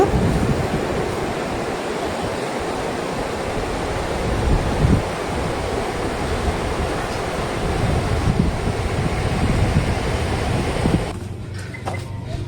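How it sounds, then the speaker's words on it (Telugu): A river rushes through windy mountain country near Koksar in Himachal Pradesh, making a steady broadband roar tangled with wind buffeting the microphone. It stays continuous and fairly loud, then drops in level over the last second or so. Nobody speaks. "ఆ రివర్ సౌండ్ చూసారా ఎలా వస్తుందో?"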